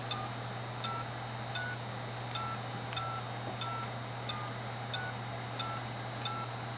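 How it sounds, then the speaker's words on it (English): Short tonal beeps from a doorbell phone keypad as a cell phone number is dialed, evenly spaced single tones with faint clicks over a steady low hum, no talk. "Type in my cell phone number."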